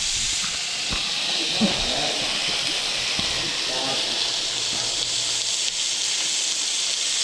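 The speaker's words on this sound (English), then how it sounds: "let's sear the other side now" Steak searing in a hot pan while brunch is cooked, a steady loud broadband sizzle and hiss running the whole time, with small pops and a voice murmuring faintly underneath.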